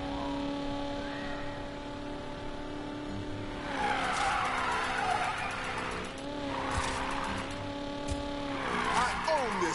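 Car tires screech through a long drift in the Need for Speed Payback racing game, a 1965 Ford Mustang engine humming underneath. The squeal swells in several loud surges over a steady drone, with a voice talking over it.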